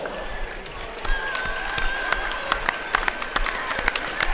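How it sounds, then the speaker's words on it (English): Basketball fans in a school gym applaud at a varsity boys game, a steady wash of clapping with scattered sharper claps and some crowd voices, sustained through the moment. "Fans, give them a round of applause."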